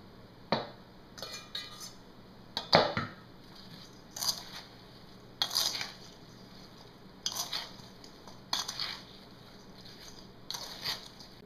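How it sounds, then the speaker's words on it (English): Peeled apples are tossed with a spoonful of coating in a bowl for homemade apple pie, giving irregular clinks and scrapes of a utensil against the bowl with soft rustling pauses between, close and fairly quiet. "Now we're going to thoroughly cover the apples with this"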